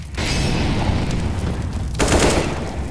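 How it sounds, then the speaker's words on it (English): Loud, dense burst of game explosions and gunfire in CS:GO, with a sharp broadband blast near the two-second mark over continuous rumbling low end. "I'm throwing a grenade"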